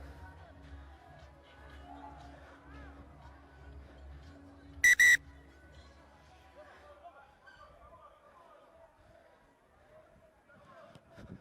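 A referee blows a short, sharp whistle blast midway through an Africa 7s rugby sevens final between Uganda and Kenya. Crowd murmur and commentary voices continue around it.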